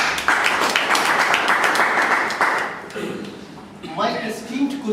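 Audience at a debate applauds a speaker, a loud burst of clapping for a couple of seconds that fades as a voice begins talking.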